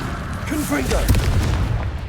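A fire spell explosion in Hogwarts Legacy lands as a deep, rumbling boom with a long, dense roar that fills the whole two seconds. A voice sounds briefly at the start.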